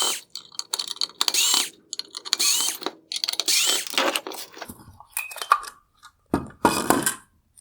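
Torx T20 and T10 screws being backed out of a 2021-2023 Chevy Corvette LED headlight projector and bracket, giving irregular bursts of close, dry clicking and ratcheting from the driver, with short pauses between runs and no speech.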